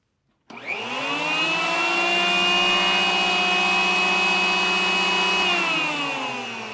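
A woodworking power tool with a 10 amp motor and 20,000 cuts per minute switches on and spins up into a loud, steady high-pitched whine, holding constant for several seconds before beginning to wind down.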